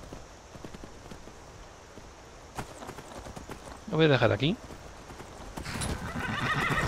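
A horse in the video game Skyrim gives a loud, shaky neigh that lasts about half a second near the middle, with soft hoof steps and game ambience around it and someone talking over it.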